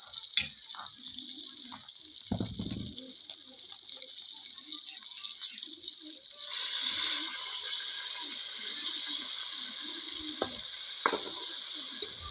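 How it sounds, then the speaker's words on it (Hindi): Garlic, green chilies and boiled black chickpeas frying in a pan after browned onions, a steady close sizzle that grows louder midway, with occasional stirring clatter. "अब लहसुन, हरी मिर्च और चने को शामिल करके 2 मिनट तक फ्राई करेंगे।"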